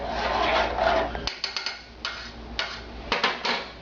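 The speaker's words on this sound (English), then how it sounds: "When it's all melted, give it a quick stir." Butter melted in a pan over a very low flame is stirred, a steady hiss in the first second giving way to a series of sharp utensil clicks and scrapes against the pan, with no one speaking.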